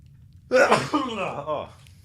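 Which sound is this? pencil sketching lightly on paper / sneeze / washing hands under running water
sneeze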